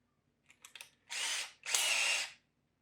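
A power drill driving screws whirs in two sustained bursts of about half a second each, close by, after a few light clicks and taps, during door armor installation.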